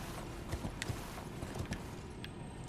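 Horse hooves clip-clop along at a steady walking pace in Elden Ring, mid-distance and moderately loud over a dense ambient game soundscape, with a few sharper accented steps.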